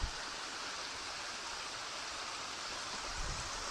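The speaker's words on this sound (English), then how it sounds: "Another little bitty waterfall." Steady rushing water from a small waterfall in Oil Creek State Park, an even broadband splash heard at moderate distance with no voices.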